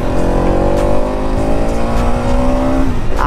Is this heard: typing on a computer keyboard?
no